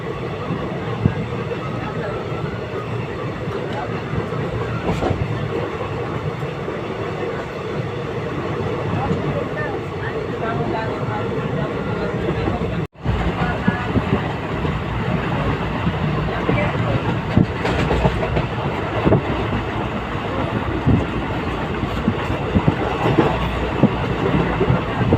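Passenger train rolling along rails at sunrise en route to Mahur from Kinwat station, a steady broadband rumble with rhythmic clatter throughout, briefly cut near the middle, with voices talking over it.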